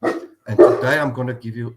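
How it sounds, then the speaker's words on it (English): Dogs bark in the background during an outdoor talk in a farming area near Hartbeespoort Dam, a few sharp barks mixed with someone speaking over them. "Please excuse the dogs barking in the background"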